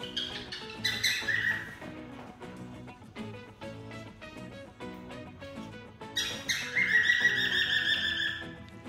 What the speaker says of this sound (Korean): 새소리가 들려 얘들아.